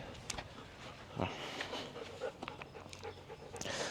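A dog pants rapidly up close, with soft breathy huffs and an occasional faint whine over quiet background noise.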